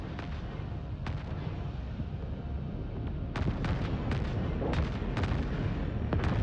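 Ship guns in the space strategy game Homeworld 3 fire in a skirmish, sharp booming reports landing in irregular clusters over a steady rumbling battle bed, growing denser and louder toward the end.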